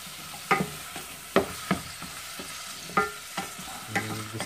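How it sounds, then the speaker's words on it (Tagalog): Meat sautés for tabongaw in a hot pan, crackling steadily under a series of irregular clanks and scrapes from stirring, close and fairly loud. "Gisa natin konti."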